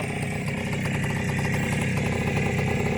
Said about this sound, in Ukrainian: Так, ось мотор вже працює.